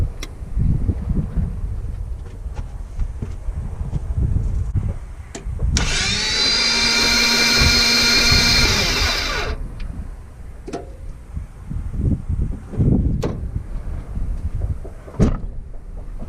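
Toyota FJ62 engine cranked over with the starter during a dry compression test on cylinder 3, which turns out to have no compression. A steady mechanical whir lasts about four seconds in the middle, with irregular rumbling and clunks on either side.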